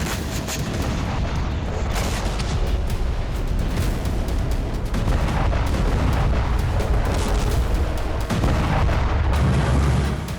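Continuous loud barrage of artillery fire and explosions from wartime strikes on Russian regions, dense overlapping booms and blasts with no letup across the whole stretch.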